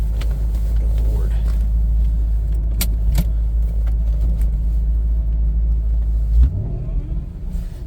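A Chevrolet Corvette C5 Z06 engine rumbling steadily from inside the cabin while driving, a loud continuous low drone with a brief swell near the end. A few sharp clicks and jingles sit on top.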